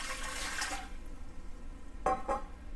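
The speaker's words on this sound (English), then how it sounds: "I add some water to the pot," Water is poured into a cooking pot for fig preserves, a brief, soft splashing pour at the start that fades to quiet room tone.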